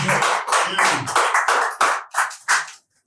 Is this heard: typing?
no